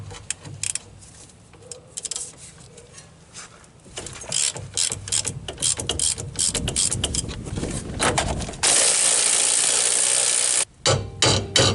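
A ratchet wrench loosening the bottom strut bolt on a 2004 Ford F150, with bursts of rapid clicking that grow louder and then turn into a steady, continuous clatter, followed by a few short clicks.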